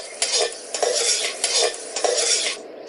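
Red chillies frying in very hot oil, a loud broadband crackle and hiss with four rhythmic surges of stirring against the pan, close and with no talk.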